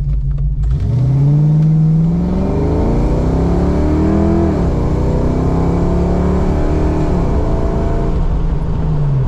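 A Fox body car fitted with an AOD automatic transmission launches from a stop, its engine loud and close as it revs up through rising, gear-shifting tones and keeps pulling steadily.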